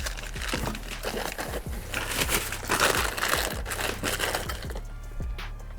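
A small plastic parts bag holding three screws for mounting a Z1 Off-Road catch can on a 2022-or-later Nissan is torn open and handled, giving close, continuous crinkling and crackling with sharp snaps, steady for several seconds with no voices.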